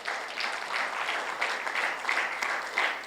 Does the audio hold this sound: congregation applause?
yes